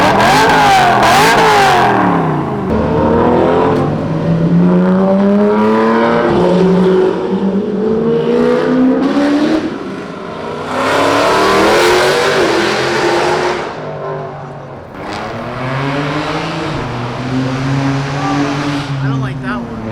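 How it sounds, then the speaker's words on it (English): A V8 car engine at a night car meet revs repeatedly, loud, rising and falling throaty sweeps with burbles between them, close by, with people talking over it. "You wanna hear a V8?"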